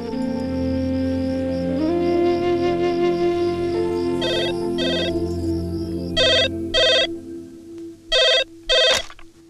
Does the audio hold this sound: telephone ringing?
yes